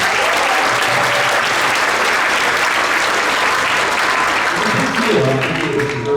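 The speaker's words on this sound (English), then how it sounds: "round of applause for those two guys" A school auditorium audience at a seventh-grade winter concert applauds two students honored for making the junior high jazz ensemble, a loud, sustained sheet of clapping from many hands, with a faint voice emerging near the end.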